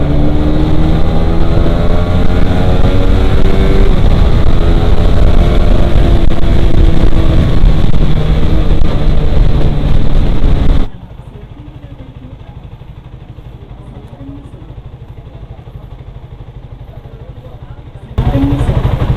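A Suzuki GSX-R 150 motorcycle engine revs hard and loud with heavy wind rush, then cuts to a quieter muffled stretch before the roar returns, with a rider's voice heard over the noise.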